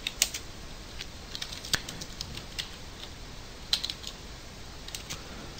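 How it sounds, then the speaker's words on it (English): Typing on a computer keyboard: quiet, irregular clicks and taps in short clusters with sharper keystrokes scattered between, fairly close over a faint background hiss. "So I'm just going to type this in manually."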